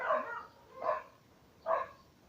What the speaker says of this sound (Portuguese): Meus cachorros latindo no portão.